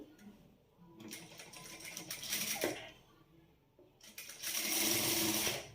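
A sewing machine stitches a blouse in two bursts of rapid whirring and clatter, separated by a quieter pause, running close and loud.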